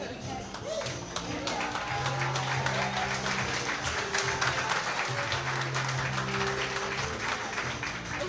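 Applause from an audience at a developer camp in Manila, a steady wash of clapping at moderate distance with some voices mixed in.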